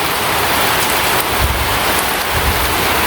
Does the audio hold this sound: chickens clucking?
no